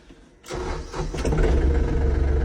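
A Yanmar tractor with a cab starts up: a short cranking burst, then the diesel engine catches and settles into a steady, close idle.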